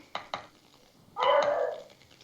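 A beagle lets out one fairly loud, drawn-out bark, preceded by two short sharp knocks in an otherwise quiet indoor room.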